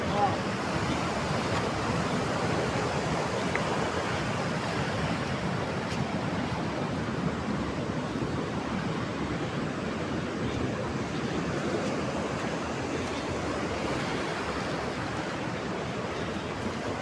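A mountain river rushes steadily near a confluence, its broad, continuous roar close and unbroken, with faint voices now and then.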